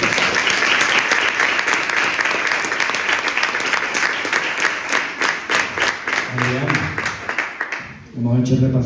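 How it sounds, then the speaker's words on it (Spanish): An audience at a live talk event claps warmly, dense and loud for several seconds. The applause thins into scattered claps near the end as a voice begins speaking. "Así que voy a pedir un último aplauso para Adrián."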